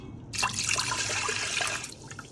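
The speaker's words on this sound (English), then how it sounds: "So I am going to pour 2 whole cups of water into the Instant Pot." Two cups of water poured into an Instant Pot, a steady close splashing stream that starts abruptly and runs for about two seconds before tapering off.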